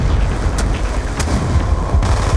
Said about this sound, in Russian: граната прямо здесь